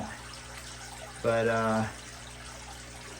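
Water runs into a 50-gallon bare-bottom aquarium being refilled: a short, louder burst of pouring and splashing lasting under a second, with quieter background hum around it and a brief spoken word before.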